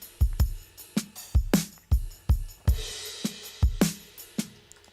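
A dry drum kit with no reverb plays a steady groove of punchy kicks, snares and cymbal hits, each one cut short and tight, with no voices.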